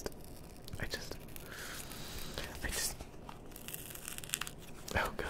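Stickers are torn and peeled off a Rode NT1 microphone up close in an ASMR setting, with crinkly ripping and crackling bursts under soft whispering.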